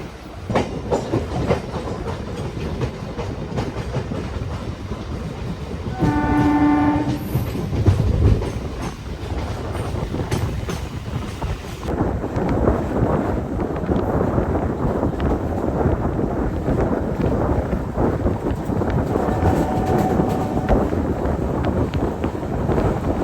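A MEMU passenger train runs on the Coimbatore-Shornur line, heard from onboard as a steady loud rumble with rhythmic clickety-clack of wheels over rail joints, wind noise and a brief tonal horn-like sound partway through.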